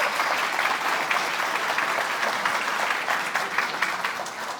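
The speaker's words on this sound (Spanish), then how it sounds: "Un aplauso para ellos" Conference audience clapping for two speakers after a talk on APIOps at a Bancolombia tech event; a sustained, dense round of applause, steady and fairly loud from start to finish with no speech.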